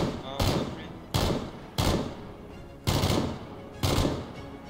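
Gunfire in the video game Battlegrounds: five sharp, loud shots at roughly even intervals, each a hard crack trailing into a brief decaying echo, up close and without speech over them.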